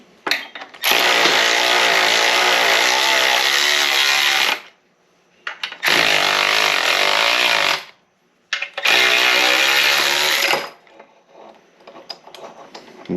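Power tool, likely an impact wrench, hammering at a stubborn bolt during an SM465 transmission rebuild: three loud sustained bursts of rapid ratcheting separated by short pauses, heard close with no talk.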